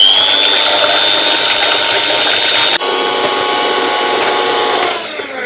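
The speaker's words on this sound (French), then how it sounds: "On va transvaser les blancs d'œufs ici et on va les mixer." An electric mixer whipping egg whites in a bowl gives a loud, steady motor whirr with a high whine that drops slightly in pitch partway through, running continuously and close up.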